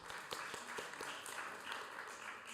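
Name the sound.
audience applause at peace conference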